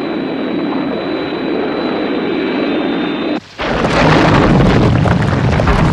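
Thunderbird 1, a fictional rescue rocket-jet from the Thunderbirds series, roars steadily with a high whine, briefly cuts out, then surges into a louder, broader jet blast as it changes to horizontal flight; no talking.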